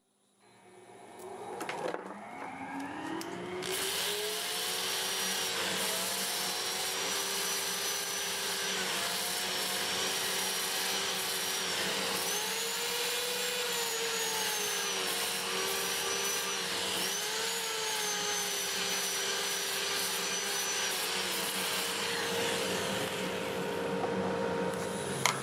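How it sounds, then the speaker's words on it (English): A dust collector runs steadily beside a wood lathe turning olive wood, starting up in the first seconds and then holding a loud, constant whine and roar with small pitch dips, no voices. "Get the dust collector going, of course."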